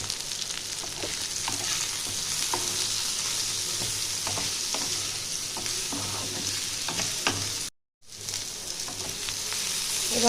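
Onion and eggplant frying together in a pan with salt and turmeric, a steady close sizzle with occasional stirring scrapes, briefly cut out near the end before the sizzle resumes.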